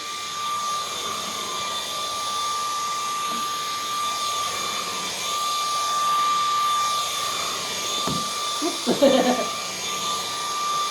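A MOOSOO or Dreametech high-power cordless battery vacuum cleaner runs continuously with a steady, loud motor whine and airy rush, swiveling as it is steered, while people talk over it near the end.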